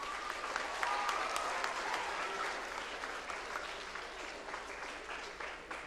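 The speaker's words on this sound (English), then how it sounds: "Can we have a round of applause, please?" Audience at a journalism writing conference gives a sustained round of applause, an even wash of many hands clapping, moderately quiet and steady before tapering slightly.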